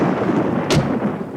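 Thunder rumbles in a cartoon just before rain, a low continuous roll with one sharp crack partway through, steady and fairly loud with no other sounds.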